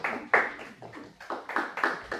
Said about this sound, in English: Let's give a applause for the presentation.